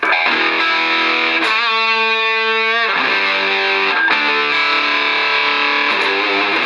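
A heavily distorted electric guitar played through an MXR Distortion+ pedal at bedroom level plays sustained, buzzing chords with a thick, saturated tone, alone and loud throughout.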